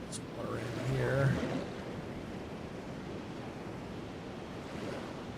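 Ocean waves wash and lap steadily in Jurassic World Evolution 2 as a soft, continuous surf hiss, with a brief murmur of talk early on.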